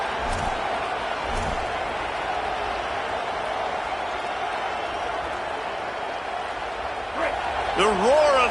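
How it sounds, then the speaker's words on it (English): A football stadium crowd keeps up a dense, steady roar that fills the whole stretch, loud and unbroken, with a commentator talking over it. "The roar of the crowd trying to fuel this defense to keep them pinned in their own end"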